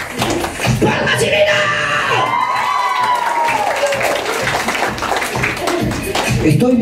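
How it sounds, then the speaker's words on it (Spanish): Lively clapping and shouting from guests at a child's first birthday party, rapid rhythmic claps mixed with screams and cheering voices close by. "Estoy viendo a ver quién no hace palmas y gritos."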